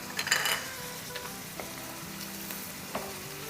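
Onions and cashews fry in a pan with a steady, moderate sizzle, broken by a few faint clinks of a utensil stirring against the pan.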